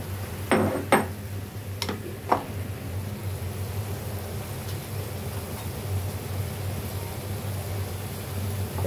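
A spoon stirs garlic cloves into a village-style desi chicken curry in a pot, making a few sharp metallic clinks early on before settling into a soft, steady background hiss.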